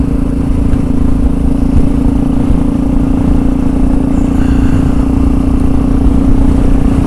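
A Yamaha XT660R motorcycle cruising on the road, its single-cylinder engine giving a loud, constant drone with heavy wind rumble and no notable revving changes.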